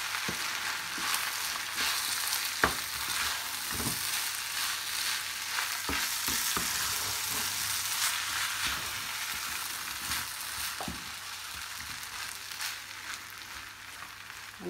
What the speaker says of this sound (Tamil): நல்லா இந்த மாதிரி 2 மினிட்ஸ்க்கு நல்லா கிளறி வச்சா குழைவாக நல்லா பொங்கல் வரும்